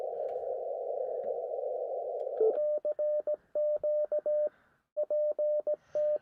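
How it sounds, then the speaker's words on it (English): A steady hum gives way to Morse code beeps from a keyer built into an amateur radio, a clean tone keyed in short and long elements with brief gaps, close and clear, with no talk. "every once in a while you hear a beep before my code."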